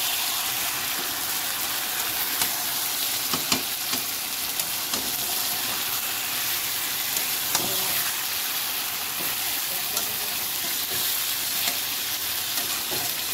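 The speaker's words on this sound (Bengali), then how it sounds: "এবার আমি মাংসটাকে খুলে দেব, একটু নেড়ে ছেড়ে দেব যাতে তলাটা না ধরে যায়।" Chicken kosa frying in a pan gives a steady, dense hiss of sizzling oil, with occasional soft scrapes and taps as the meat is stirred, close and without talk.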